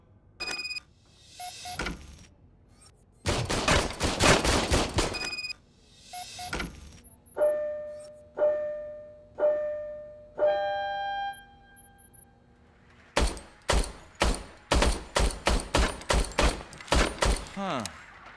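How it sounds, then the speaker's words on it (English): Gunfire from an old service pistol in Robocop: Rogue City, heard as sharp repeated shots in irregular bursts, some rapid strings of cracks with ringing tones between volleys. "I was issued this old gun and serviced it according to the manual. I will try it out."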